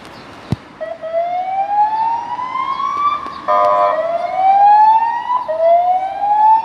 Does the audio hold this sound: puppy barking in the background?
no